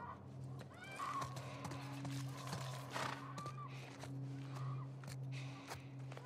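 A horse in the video game The Last of Us Part I whinnies and snorts repeatedly over a steady low hum, with soft hoof clip-clops and rustling nearby.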